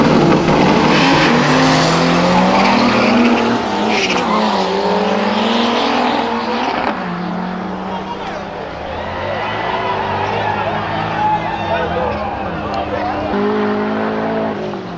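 Racing cars roar loud and close through the whole stretch, engine tones rising and falling with tire squeal between shifts, while people talk over the noise.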